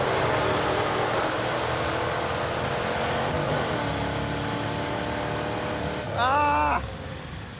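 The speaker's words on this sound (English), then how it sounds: "The clutch is spinning." Trans Am race car engine with a slipping clutch and a dead flywheel, holding a loud, steady drone that climbs in pitch, then rising and falling sharply in a brief rev surge near the end.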